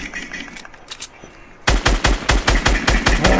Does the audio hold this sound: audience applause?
no